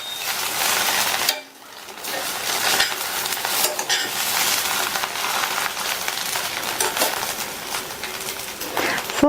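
Bread upma being mixed in a pan with chopped coriander leaves, a steady sizzle with frequent spoon scrapes and stirring knocks, briefly dipping near the start, no talk.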